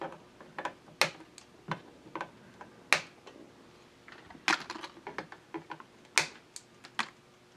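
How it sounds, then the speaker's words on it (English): Component leads on a soldered circuit board are trimmed with cutters, making a string of sharp, close snips and ticks at an uneven pace, some louder than others, in otherwise quiet surroundings. "now I can just trim the leads"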